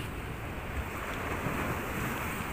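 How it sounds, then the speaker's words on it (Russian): Large sea waves: a continuous, dense roar of surf mixed with wind buffeting the microphone, steady and loud throughout with no voices. "Смотрите, какие огромные волны."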